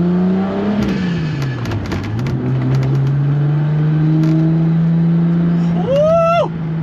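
A car revs and accelerates on its first drive, the engine note dipping then climbing and holding a steady hum, with light clicks and a brief squeaky rising tone near the end.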